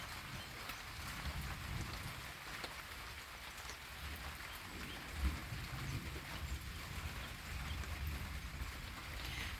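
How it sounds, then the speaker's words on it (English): Steady rain patters and hisses on a porch in a soft, continuous wash, with occasional low rumbles of thunder and a faint thump. "listening to the rain"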